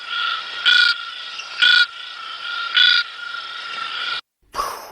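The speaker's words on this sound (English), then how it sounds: "I think it's a medium frog." A medium-sized frog croaks in a steady, buzzing trill, punctuated by three louder, harsher pulses at regular intervals, then a brief silence and one more call; close and clear, with no talking.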